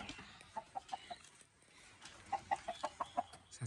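A rooster at a village home clucks in a quick series of soft, faint, close clucks, a few at first, then a denser run after a short pause.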